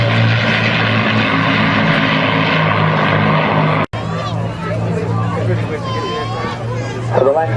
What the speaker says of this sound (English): Here it comes down now over its last pass, the magnificent Avro Lancaster.